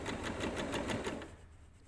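A sewing machine runs steadily while stitching a narrow hem along a curved edge, a fast, even mechanical chatter that stops near the end.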